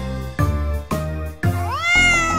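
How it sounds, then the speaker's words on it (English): A cat meows three times in a children's animal song about a barn, short evenly spaced calls with one longer rising meow at the end, set over a bright musical backing with no singing. "A cat is in the barn."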